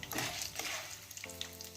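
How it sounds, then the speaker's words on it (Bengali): Chickpeas fry in hot oil with a bright crackling sizzle, loud and close, swelling in bursts as they are stirred. "দেখো ছোলা ভাজছি তেলে তেলে ছোলা ভাজার একটু টেস্টি লাগে"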